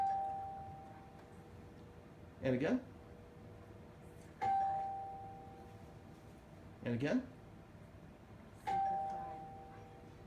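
A doorbell rings four times at steady intervals during a counterconditioning session with a dog reacting to the bell, each ring a clear tone over quiet room sound, with a person speaking briefly between rings.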